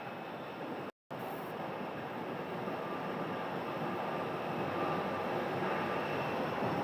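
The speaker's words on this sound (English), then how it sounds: "this is a rare occurrence of a Southwest departing on the north runway" A Southwest Boeing 737 MAX 8, about a year old, departing from the north runway at Phoenix Sky Harbor, heard as a steady broadband jet roar that slowly builds, distant but continuous, with no talking.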